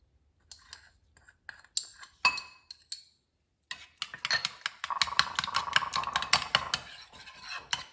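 Eggs and garlic salt whisked in a bowl for an omelette, with a few light clinks at first, then a steady run of rapid utensil clicks and taps against the bowl, close and fairly loud.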